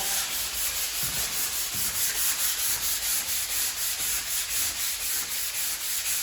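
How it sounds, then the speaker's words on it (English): Rhythmic hand sanding of wood with a sanding block, a steady back-and-forth scratchy rubbing repeated in even strokes along the grain, close up. "Sanding with the wood."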